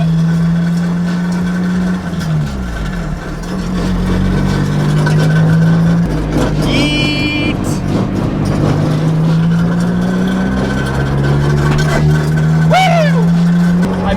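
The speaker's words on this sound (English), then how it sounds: "I missed driving this thing" A Honda Del Sol engine drones steadily while driving on the street, with pitch rising and dropping through gear changes and revs. People talk over the loud engine noise throughout.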